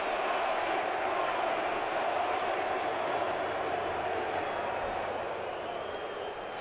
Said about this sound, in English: Listen to this crowd, will you?